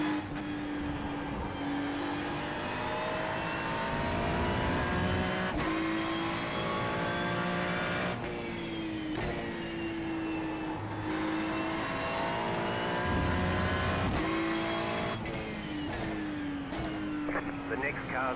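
Race car engines in a sim racing game at Hockenheimring: a steady, close engine drone with repeated gear shifts and rising revs, while a voice speaks over it.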